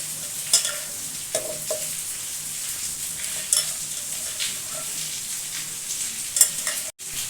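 Finely chopped spinach goes into pressure-cooked dal and is stirred through, giving soft wet scraping and stirring with a few faint clinks of the spoon against the pot, steady and close, with no talking.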